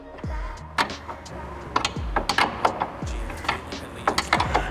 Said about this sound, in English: Going to install the body mount tab using a 16mm wrench. We're going to loosen up the body mount bolt.